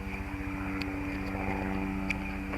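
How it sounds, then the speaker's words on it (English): A helicopter passes overhead outdoors, a steady droning rotor and engine sound with a faint rhythmic chop, moderately distant and unbroken throughout, with no speech. "So a helicopter flying over, it's not an uncommon occurrence out here."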